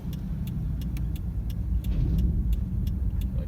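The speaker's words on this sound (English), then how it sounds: "I'm gonna wait for this car" A car passes on a road during a California DMV driving test, a steady close engine and tire rumble with faint ticking over it.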